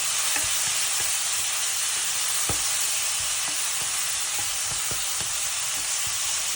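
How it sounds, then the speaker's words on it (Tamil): Tomato frying in a pan for an Indian-style crab soup gives a steady, moderate sizzle, punctuated by occasional soft stirring knocks and spatters. "கொஞ்சம் ஒரு நிமிஷம் லைட்டாக இப்படி பொரிய விட்டுட்டு"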